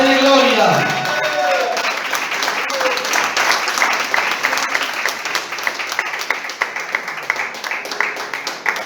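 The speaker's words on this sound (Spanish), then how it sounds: "Aplauda al que vive, si va a aplaudir." A church congregation bursts into applause, a loud sustained round of clapping that starts after a voice and carries on with shouts and talking mixed in.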